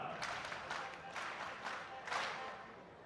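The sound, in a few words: applause for Venezuela delegation at political event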